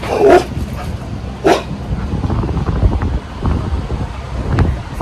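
A dog barks outdoors in windy conditions near Duluth, Minnesota, giving two sharp barks early on over steady wind noise on the microphone, with fainter sounds trailing after.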